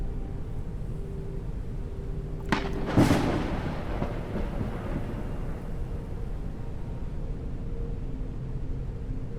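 Thunder in the survival video game Forever Skies strikes as a sharp crack followed by a brief rolling rumble that fades into a steady low ambient hum.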